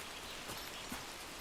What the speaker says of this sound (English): Started raining again.